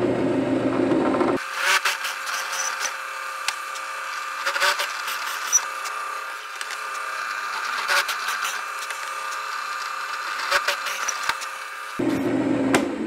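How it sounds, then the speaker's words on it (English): A power drill bit boring holes in wood for a tape loom, a steady whirring grind lasting about ten seconds with brief dips between holes, loud and close. "So let me drill these holes now."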